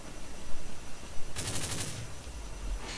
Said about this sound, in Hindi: कहीं से गोलियों की आवाज़ आ रही है